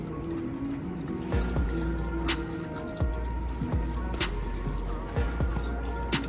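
Close, wet lapping and splashing of liquid in quick irregular bursts as a dog drinks water from a container on a mountain trek.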